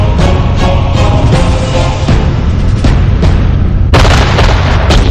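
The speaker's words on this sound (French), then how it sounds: "3000 canons et orgues de Staline écrasent les lignes ennemies." An artillery barrage of cannons and Katyusha rocket launchers in the Battle of Stalingrad, a dense, loud, continuous roar of booms and blasts with one heavier burst near the end.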